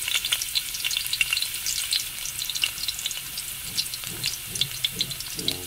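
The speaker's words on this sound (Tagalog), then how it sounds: "Dahil mainit na ang ating mantika guys, lagay muna natin ang luya guys." Ginger sizzles in hot cooking oil in a pan, a steady close crackling hiss with small pops and stirring scrapes, for ginataang papaya.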